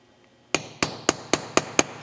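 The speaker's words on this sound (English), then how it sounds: "with a chasing hammer, I'm just going to put this straight down on here." A chasing hammer taps a 6 mm stone setter in six sharp, evenly spaced metallic strikes, each ringing briefly, close and clear with a quiet lead-in before the first hit.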